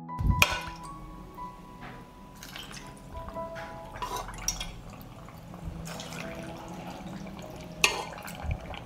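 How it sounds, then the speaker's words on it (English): Marinade trickles and drips over peppers packed in glass jars, a soft steady pour marked by a few bright clinks of glass, heard up close without speech. "Pour the marinade to cover the peppers."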